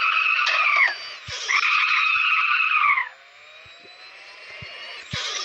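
A car drifting on a road, tires skidding in long high squeals that break off and resume, loud and close, with a lower engine drone between the bursts.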